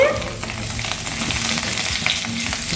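Cumin potatoes frying in a pan, a steady close sizzle with scraping and stirring sounds from a spoon moving the pieces.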